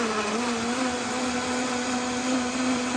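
A blender runs steadily at full speed, blending tomatoes for sauce in a home canning kitchen, with a constant loud whirring motor hum and no pauses throughout.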